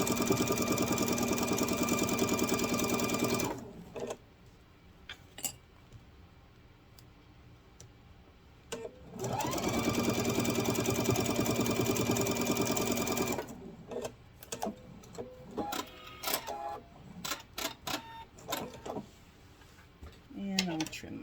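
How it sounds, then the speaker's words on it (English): A sewing machine stitching a grocery bag runs in two loud, steady bursts, each several seconds long and separated by a quieter gap, followed by scattered clicks and handling noises near the end. "so I can continue to sew"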